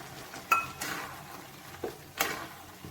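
Soaked mung dal tipped into a pot of bottle gourd, a few clinks and clanks of utensil against pot spaced irregularly over a soft background, close and moderately loud.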